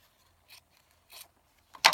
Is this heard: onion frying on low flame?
no